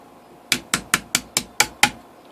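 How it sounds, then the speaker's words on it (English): A small jeweler's hammer taps a ring being shaped from a quarter coin: seven crisp, bright metallic strikes, evenly spaced and close by, each ringing briefly, with no voices. "Now I'm just finishing things up with the little jeweler's hammer."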